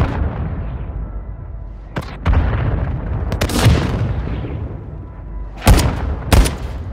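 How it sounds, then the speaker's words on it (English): Mortar strike explosions in a video game land as a series of deep booms and sharp blasts, with several heavy impacts spread across the moment over a rumbling battlefield background. "Mortar strike inbound now."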